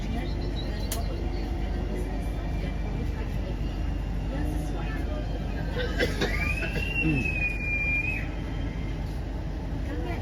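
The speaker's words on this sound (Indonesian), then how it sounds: "kereta api Jayabaya diberangkatkan kembali dari stasiun Bangil" The Jayabaya passenger train pulls out of Bangil station with a steady, dense rumble and background crowd murmur, while a brief rising whistle-like tone sounds partway through.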